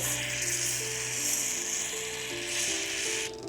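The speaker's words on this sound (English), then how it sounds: "I'll go ahead and spray some corrosion X down" Corrosion X is sprayed into a Penn Fierce II 5000 fishing reel during servicing: a steady hissing spray runs continuously for a few seconds, with faint mechanical clicking underneath, close and moderately loud, then cuts off near the end.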